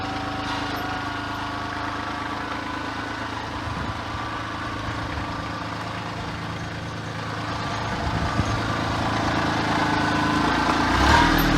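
A vehicle engine drones steadily while driving through mud, its low rumble laboring and bogging slightly as the load rises near the end, close and continuous with no talking.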